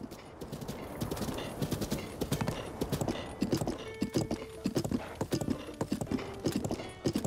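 Horse hooves clip-clopping in The Legend of Zelda: Breath of the Wild, a quick steady rhythmic trotting close by, with tack jingles and faint game ambience throughout.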